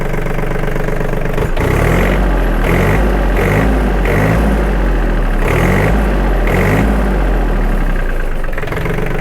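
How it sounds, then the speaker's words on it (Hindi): A new Swaraj Target 625 tractor's diesel engine idles loud and close, a steady low rumble with a rhythmic pulsing chug throughout and no voices. "This is a sound of Swaraj target 625।"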